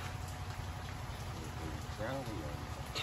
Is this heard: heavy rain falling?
yes